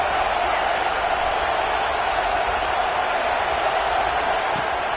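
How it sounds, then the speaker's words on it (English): Stadium crowd in the College Football 26 video game, a dense, steady roar of cheering fans with no breaks, loud and constant throughout. "this crowd trying to help keep them there"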